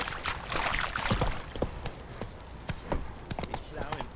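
Horse hooves in The Witcher 3 video game clop in a loose, steady gait at moderate distance, joined by faint watery trickling sounds and sparse ambient noise.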